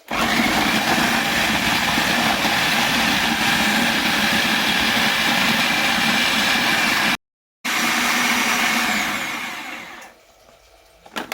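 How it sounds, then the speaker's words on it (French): A food processor runs loudly and continuously while chopping vegetables for a grilled okra sauce, with a brief cut in the middle and a whirring spin-down at the end. "Moi, je vais hacher les miens dans mon robot mixeur"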